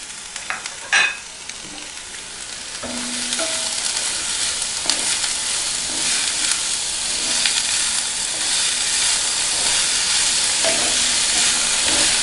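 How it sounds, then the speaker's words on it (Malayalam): Sliced onions sauté in hot oil in a pan for Kerala-style chicken roast, a steady loud sizzle and hiss with occasional stirring scrapes, no talking. "ആ സവാള അതിലേക്കിട്ട് നല്ലപോലെ വഴറ്റുക"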